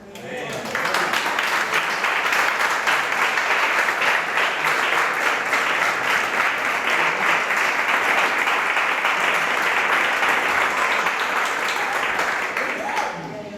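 Spanish-speaking church congregation applauding the Lord, a strong, sustained burst of clapping that starts abruptly and holds steady for about thirteen seconds before trailing off, with voices faintly underneath.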